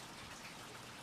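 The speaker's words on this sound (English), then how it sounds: "Looks like the rain's going to quit." Rain falls steadily in the desert, a faint, continuous patter of drops on surfaces with no voices over it.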